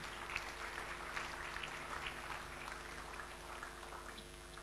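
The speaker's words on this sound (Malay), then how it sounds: "Kita beri tepukan pada pasukan ini." Steady, dense clapping from a sizable crowd at a school graduation ceremony, continuous and even throughout, heard at a moderate distance without voices.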